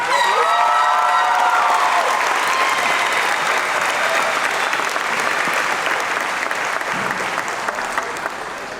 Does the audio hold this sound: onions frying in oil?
no